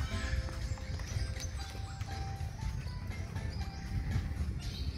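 Horse hooves clip-clopping steadily close by on a farm, with low rumbling background noise and occasional faint animal sounds; no talking.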